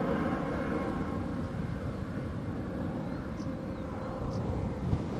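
Distant aircraft at Bristol Airport, a steady broadband engine roar at moderate level with a slight swell toward the end, heard without talk.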